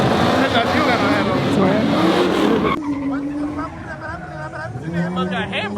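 A Dodge Hellcat skids at a street takeover, tires squealing loudly over a roaring engine and crowd noise, fading to a lower engine drone with scattered shouts from nearby people.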